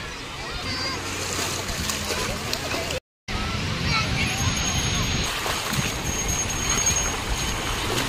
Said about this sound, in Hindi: A waves I, waves I.